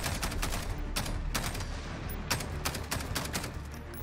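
Rapid bursts of SCAR rifle fire in a Modern Warfare realism campaign, several sharp shots in quick clusters over dense battle noise, loud and close with no talk.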